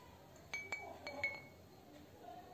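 A small solid object is set into a glass of water during a classroom demonstration, giving several light glassy clinks and taps in quick succession, fairly faint against a quiet background.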